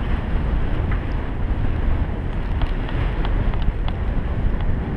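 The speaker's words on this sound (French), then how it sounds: "beaucoup de vent ce matin" Strong morning wind buffets the microphone in the desert at the start of a 91.7 km ultramarathon stage, a steady loud broadband roar with gusty surges throughout and no talk.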